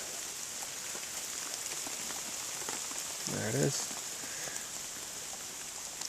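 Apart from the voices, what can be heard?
rain falling on a muddy food plot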